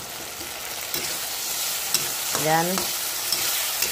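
Marinated pork liver stir-fried with garlic and onion in a pan, a steady low sizzle running throughout with a couple of faint stirring scrapes and a brief tonal squeak near the middle.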